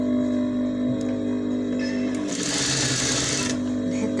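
Sewing machine stitching fabric for a two-piece corner sofa cover in jacquard, running as a steady continuous mechanical whir close by, with a brief brighter burst of higher-pitched clatter partway through.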